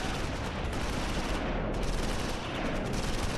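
Sustained gunfire from a Close Combat IV battle at Losheim, with dense, continuous crackling shots and bursts filling the whole stretch at steady loudness, no voices over it.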